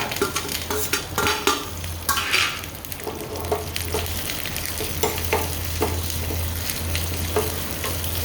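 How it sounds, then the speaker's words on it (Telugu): Green chillies, ginger and curry leaves fry in hot oil with a steady close sizzle, broken by repeated scrapes and clinks of a spoon stirring against the pan, with a low hum beneath. "పచ్చిమిరపకాయలు, అల్లం, కరివేపాకు. అంతే. ఇవన్నీ వేసేసి కాస్త వేగనివ్వండి."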